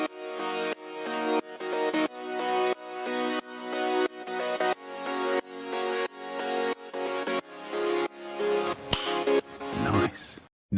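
Synth chords built in FL Mobile, run through reverb, EQ and sidechain ducking, pulse in a steady pumping rhythm, each chord swelling back after a duck, about a dozen times before a brief swishing effect at the end.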